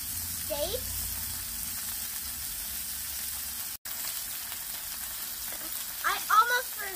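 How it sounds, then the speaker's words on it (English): Cabbage steaks fry in a pan with a soft, steady sizzle. A few faint voice sounds come at the start and near the end. "I think it will be time to fry our steaks"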